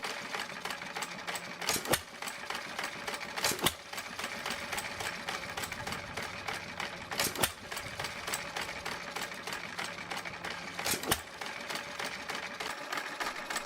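A Root and Vandervort 2 horsepower stationary engine runs steadily, a fast even mechanical chatter with sharp louder thumps recurring every couple of seconds, heard up close without talk.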